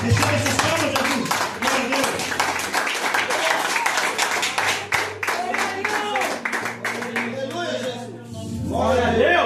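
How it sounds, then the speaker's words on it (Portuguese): A church congregation claps and applauds at a Portuguese-language evangelical service, with dense, steady clapping filling the space over a sustained musical backing, continuing under the preacher's voice throughout. "Quem pode aplaudir? Em nome de Jesus. Jesus, receba essas palmas, Jesus"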